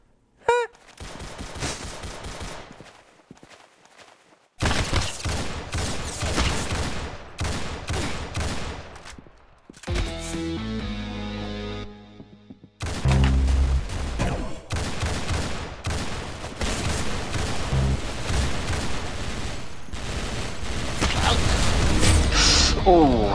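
Roblox Arsenal gameplay erupts in loud, rapid bursts of gunfire and machine-gun fusillades, broken by short pauses and a stretch of game music or effects, with a voice talking at times over the shooting.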